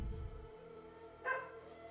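A dog barks in a video game: one short, sharp bark rises about two-thirds of the way through, over a steady hum of background music.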